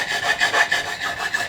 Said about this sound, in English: So this is a diamond reprofiling file.